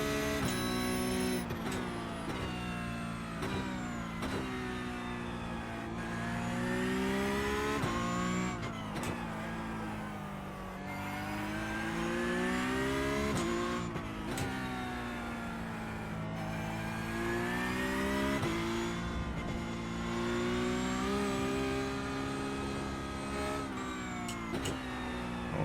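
A Porsche race car in the iRacing sim roars without pause, its engine pitch rising through each gear and dropping at shifts and braking in repeated cycles, loud and alone with no talk.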